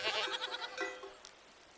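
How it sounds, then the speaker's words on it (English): Goats in the farming video game Farthest Frontier bleat a few times, soft and somewhat distant, the calls fading out toward the end. "you can have your little goats over there."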